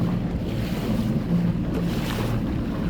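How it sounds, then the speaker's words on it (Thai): Sea waves and wind on a cold winter coast at minus one degree, a loud continuous roar of surf with heavy wind buffeting the microphone, no talk. "เอาบรรยากาศอยู่ทะเลมาฝากจ้า"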